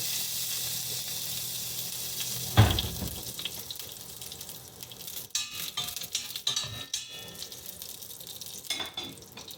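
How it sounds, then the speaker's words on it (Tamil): Fennel seeds and dried red chillies tempered in hot oil give a bright, hissing sizzle with a sudden louder crackle early on, then irregular spatter and stirring scrapes close by. "பெருஞ்சீரகம் செத்தமிளகாய் எல்லாம் போட்டுருக்கு அதை கொஞ்சம் போட்டு தாளிச்சுட்டு"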